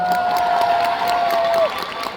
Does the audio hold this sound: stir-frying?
no